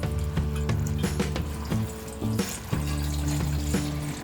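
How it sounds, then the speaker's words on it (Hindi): Radish leaves are washed under a running tap in a sink, a steady close splash of water with rustling and handling of the leaves, no voices. "हम ये मूली के पत्तों को भी अच्छी तरह से 2-3 बार धो लेंगे।"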